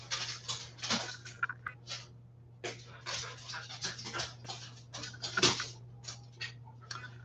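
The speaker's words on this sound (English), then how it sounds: "These dogs, they're just like tap, tap, tap, tap, tap, tap, tap, tap, everywhere" Dogs' claws tap and patter across a floor indoors in a quick, uneven run of close clicks, with a steady low hum underneath and no talking.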